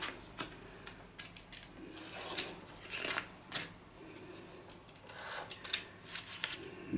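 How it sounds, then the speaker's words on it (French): Scissors snip through a paper sticker sheet, a quick run of soft, irregular cuts and rustles close by, with no talk. "Hop, on va découper ensuite bien proprement."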